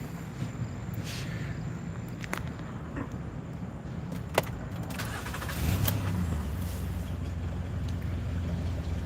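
A car pulls up and parks on a street, a low engine hum swelling partway through against quiet outdoor background noise, moderately distant, with nobody talking.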